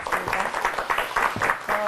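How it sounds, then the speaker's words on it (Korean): An audience applauds to welcome a lecturer at a talk on human relations and military leadership, with dense clapping for about two seconds and a voice speaking over it. "큰 박수로 맞아주시기 바랍니다."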